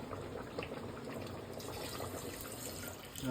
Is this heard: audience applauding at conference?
no